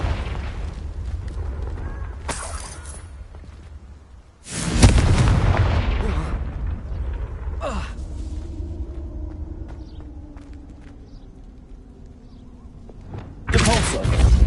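Confringo spell blasts in Hogwarts Legacy, loud booming bursts near 0.3, 2.5, 4.5, 7.8 and 13.5 s over a low rumbling game ambience, with long decaying tails between impacts.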